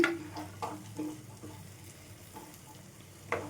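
Garam masala being stirred into curry leaf paste in a frying pan, with a soft continuous sizzle and occasional spoon scrapes and clinks against the pan, close and fairly quiet, no talking.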